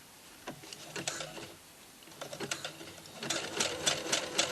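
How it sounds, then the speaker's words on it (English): A sewing machine runs in short bursts of stitching on fabric for a circle skirt, with brief pauses between runs and a longer, steadier back-and-forth run near the end to lock the seam; close and fairly loud, no talking. "I'm just doing a couple of stitches, and then I'm going to do a back stitch just to lock it off."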